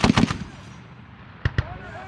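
An M2 .50 caliber machine gun at a US Army range fires a short burst of heavy booming shots, then two more single sharp reports after a pause over a noisy outdoor background.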